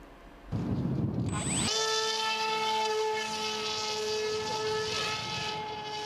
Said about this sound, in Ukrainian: Так бійці вчаться керувати безпілотними літальними апаратами.